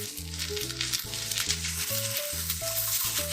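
Mushrooms sauté in a little oil with a steady, bright sizzle and occasional stirring rattles, under a soft background of calm instrumental music.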